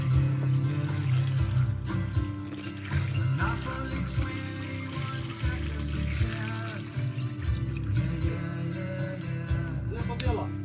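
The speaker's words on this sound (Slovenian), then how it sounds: "Evo, zalijemo sladko vodo." Sugar water is poured from a container over elderflowers and lime in a bowl for elderflower syrup: a continuous splashing, gurgling pour lasting several seconds, with voices talking faintly underneath.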